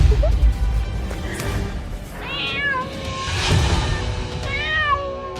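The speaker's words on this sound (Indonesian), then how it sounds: "Kayak ada suara kucing." A cat meows a few times, drawn-out and wavering, fairly close against a low rumbling background.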